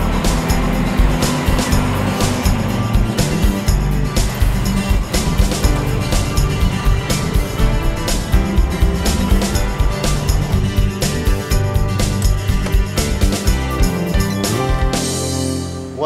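An antique 1932 car from a vintage collection runs continuously, a dense steady mechanical engine drone with rhythmic clattering and ticking, loud and close throughout with no talk.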